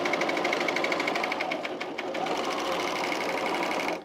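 A sewing machine stitches through thick layers of fleece for a pullover, with the presser foot pressure lightened. It gives a steady, close, continuous whir with no talk over it.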